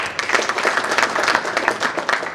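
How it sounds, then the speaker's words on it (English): Audience at the RVTTI 11th International Research Conference applauding, a close, dense burst of many hands clapping rapidly and evenly with no voices over it. "And we applaud them,"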